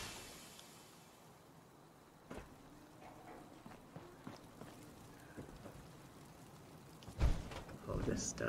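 Rain falling in the Fallout 4 video game, a steady soft patter with faint distant thunder rumbles and a heavier burst near the end.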